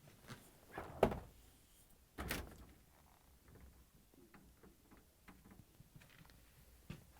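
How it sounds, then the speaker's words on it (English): The French doors of an LG/Kenmore refrigerator are opened, with two soft thunks from the door seals releasing followed by quiet handling clicks in an otherwise still room. "we need to open both French doors"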